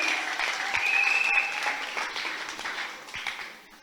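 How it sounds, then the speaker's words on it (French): A church congregation applauds the bishop during an evening celebration at the Armée de Gloire church in Gemena, a sustained wash of clapping that swells and then slowly fades, with faint voices mixed in. "Est-ce qu'on peut acclamer?"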